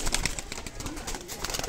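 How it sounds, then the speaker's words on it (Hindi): Sialkoti pigeons coo softly in short repeated bursts, close by and alone, with no voices. "देखें माशाल्लाह सीधी तख्तियों के कबूतर हैं"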